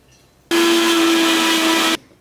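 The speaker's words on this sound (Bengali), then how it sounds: "কলার ডালটা এবারে আমরা মিক্সিতে দিয়ে ঘুরিয়ে নিচ্ছি।" An electric mixer grinder whirs loudly as it grinds soaked urad dal into a paste, a steady high-pitched motor roar starting abruptly, holding for about a second and a half, then cutting off.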